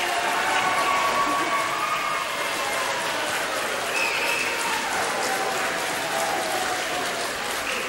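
Loud, sustained applause and cheering from an election night crowd at the 1984 New Zealand general election, a dense unbroken wash of clapping with voices mixed in.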